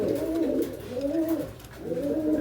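A pair of Dhamasi pigeons coo nearby in soft, low rolling phrases, two drawn-out calls separated by a brief pause.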